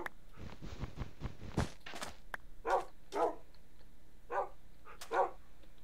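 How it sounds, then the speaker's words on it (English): Dogs barking in Minecraft: a scatter of short yelps early on, then four spaced, clear barks of moderate loudness over a steady low game hum. "All these dogs are in my way."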